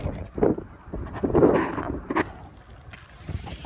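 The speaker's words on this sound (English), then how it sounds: "It's just really windy." Gusty wind buffeting the microphone in uneven low rumbling bursts, rising and falling over a few seconds outdoors, with no clear speech.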